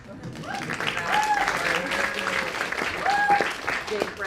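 Audience applause at a medical school white coat ceremony, steady clapping from a seated crowd with brief whistles or tones cutting through, and an announcer's voice running over it.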